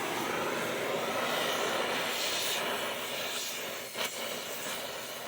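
An oxy-fuel cutting torch being adjusted on its air and gas gives off a steady, loud broadband roar and hiss throughout, with a brief sharper burst near the end.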